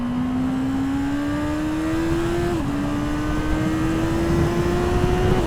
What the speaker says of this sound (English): Yeah, first gear, second gear. This bike goes pretty well.